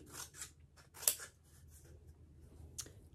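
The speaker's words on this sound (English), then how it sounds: "so I'm gonna snip these slivers all the way around, so just clipping down all the way around one end" Scissors snip slivers into one end of a cardboard toilet paper roll, a series of crisp, close cuts with a sharp snip near the middle, unaccompanied by talk.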